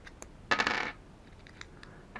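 Batteries dropping out of an opened remote control: one quick, bright clattering rattle of small hard objects, followed by a few faint clicks, with no talk.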